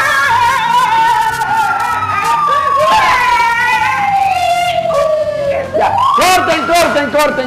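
A loud wailing ambulance siren sweeps its pitch up and down without pause, with voices and crowd noise mixed underneath.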